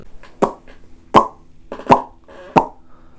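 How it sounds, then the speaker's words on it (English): Four distinct pops spaced evenly apart, each short and sharp with a resonant ring, set against near silence. "Pop, that's what it is."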